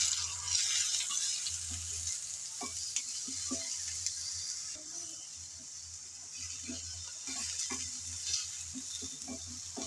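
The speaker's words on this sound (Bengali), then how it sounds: "একটা একটা করে টমেটোগুলো সব আমি দিয়ে দিলাম।" Tomatoes sizzle in a frying pan as a spoon stirs them, giving a continuous soft hiss broken by irregular clicks and scrapes, close and fairly quiet, with no speech.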